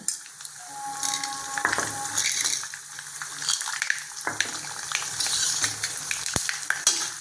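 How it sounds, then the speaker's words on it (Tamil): Fenugreek, mustard seeds, urad dal, cumin and chana dal sizzle and fry in hot oil while a spoon stirs them. Steady close crackling goes on with occasional scrapes and clinks of metal. "வெந்தயம் போட்டாச்சு, கடுகு போட்டாச்சு, உளுத்தம்பருப்பு, ஜீரகம், கொஞ்சோண்டு கடலைப்பருப்புங்க."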